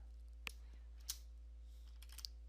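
A few sparse, sharp key clicks on a computer keyboard, typing a copy command into a Windows 11 command prompt, sound faint over a low steady hum with no speech.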